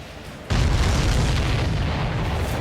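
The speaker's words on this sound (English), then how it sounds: "Did you see that explosion?" An enemy ship blows up in the game Ace Combat 7: a sudden loud, deep boom erupts after a quiet rumble, then swells into a sustained roaring blast that slowly fades.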